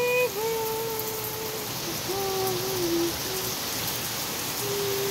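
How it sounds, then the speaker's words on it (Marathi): Heavy rain in Nagpur falls in a continuous, dense hiss close by, with a few faint tonal calls drifting over it and no talking. "तर बघा नक्की खूप जोराने पाऊस येत आहे."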